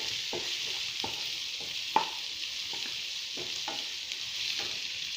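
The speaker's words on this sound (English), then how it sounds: "saute it well." Ginger and green chilies sautéing in a pan for vegetable momos, with a steady soft sizzle and a few sharp clicks of a utensil stirring against the pan, no talking.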